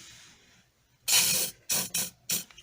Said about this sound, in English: spray around and let it sit for a few seconds